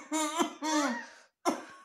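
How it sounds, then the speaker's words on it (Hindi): A person coughs three times in quick succession, harsh and close, with a brief pause before the last cough. "हमें ना बहुत ज्यादा खांसी आ रही है।"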